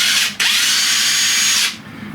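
A Makita 18V LXT impact wrench powered through a battery adapter whirs loudly, with a short burst, a brief dip, then a steady high-pitched run of over a second before spinning down.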